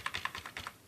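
Computer keyboard keys are pressed in a quick run of six or seven close, crisp clicks, the Enter key among them.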